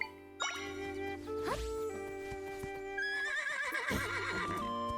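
A horse neighs with a loud, wavering whinny close by, then breaks into a second long whinny that trembles through its pitch. A steady electronic tone hums underneath.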